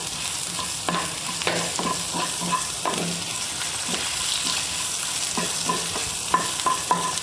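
Green chillies, onion and ginger frying with salt in a pan, a steady crackling sizzle with repeated scraping stir strokes throughout, close and fairly loud, no voices.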